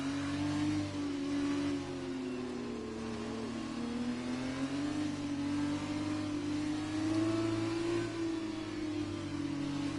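Formula 2 cars at the end of a formation lap at Singapore in a racing video game, a continuous mid-pitched engine drone that rises and falls gently with throttle, steady and close with no talking.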